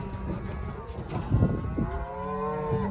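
Cattle low in an open pasture while calves and cows are unloaded from a trailer; one drawn-out moo swells near the end over a steady outdoor background, with no voices.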